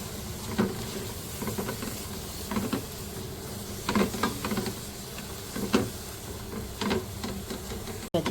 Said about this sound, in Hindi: सारी सब्जियों को अच्छी तरह हमने फ्राई कर लिया है।